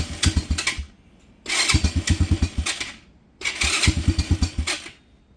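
Venom Madix 125 motorcycle engine, smoking with a possible fault, firing up in three loud bursts, each a revving, pulsing run with a rapid low putter under bright raspy exhaust noise, separated by short near-silent gaps.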